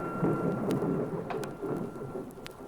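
A thunderstorm effect for a children's story: steady rain fills the background while several sharp cracks and rumbles of thunder break through at intervals, with no voices.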